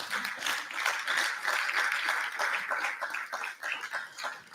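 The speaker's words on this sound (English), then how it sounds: "Another round of applause for them," A conference audience applauds with dense, sustained clapping for several seconds, loud and lively throughout.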